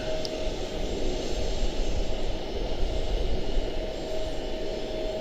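Airliner jet engines at Charlotte-Douglas airport give a continuous, moderately loud whine and roar, steady throughout with a faint high tone.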